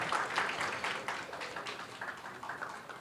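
An audience applauds at a Navratri festival event in Borivali during a felicitation on stage, with a short burst of dense clapping that slowly thins out.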